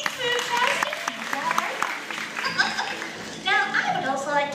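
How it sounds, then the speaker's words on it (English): A theatre audience at a live chocolate-factory show claps in a sustained, fairly close round of applause, with chuckles and voices mixed into the clapping. "let's give my friend Daniel a round of applause"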